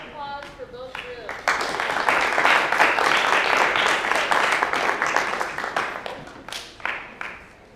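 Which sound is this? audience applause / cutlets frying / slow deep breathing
audience applause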